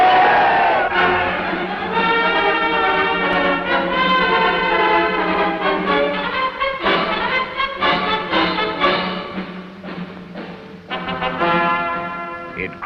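A large crowd cheering and shouting in unison for Indonesian independence, loud massed voices rising and falling in waves of chanted calls.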